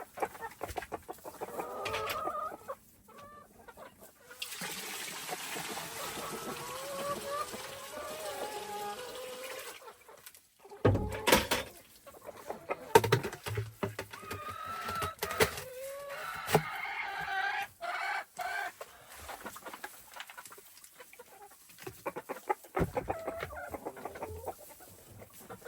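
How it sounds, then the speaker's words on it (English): Hens in a coop cluck on and off through a long stretch, with rustling, knocks and a watery background layered in, the birds fairly close but never loud. "Got a couple of hens in there laying eggs this morning already."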